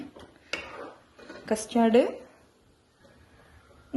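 A spoon scraping and clinking against a cup while stirring custard powder into milk, a few light taps and a brief swirl, heard beneath someone speaking.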